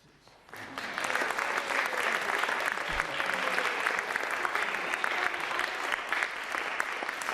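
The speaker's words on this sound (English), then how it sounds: "a round of applause for our dancers" An audience at a festive Christmas and winter solstice musical show applauds the dancers, clapping that swells in quickly after a quiet start and continues as a steady, lively ovation.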